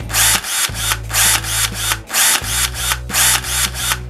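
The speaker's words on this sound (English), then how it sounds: "And I got the drill." A power drill runs loud and close in short repeated bursts, whining up and easing off about every half second, with a low hum between the pulses and no speech.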